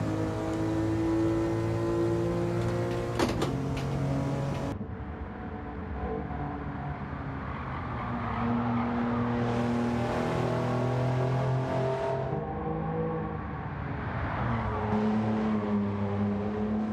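Devil Z car in Gran Turismo 7 driving with a loud, steady engine drone that shifts pitch through gear changes and lifts off the throttle, rising and falling as it accelerates and brakes, with no talking.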